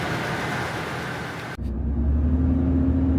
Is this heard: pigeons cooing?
no